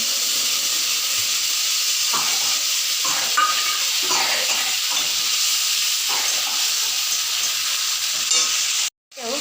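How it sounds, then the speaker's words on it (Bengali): Spices sizzle and crackle steadily in hot oil for pointed gourd curry, with occasional scraping stirs punctuating the hiss before it cuts out briefly near the end. "এবার এই ভাজা তেলের মধ্যেই আবার দিয়ে দেব মশলাটা"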